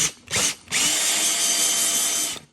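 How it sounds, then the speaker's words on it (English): A reamer bit on a power drill cleans out holes in a wooden drum shell: two short whirring bursts, then one longer sustained high-pitched spin that winds down at the end, close and loud. "what I have here is just a ream that I have connected to my drill."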